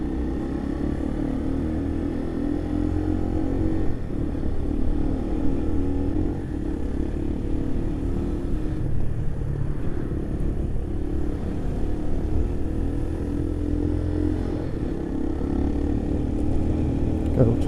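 A motorcycle rides through road traffic with a steady, loud engine drone and wind rumble that continue throughout.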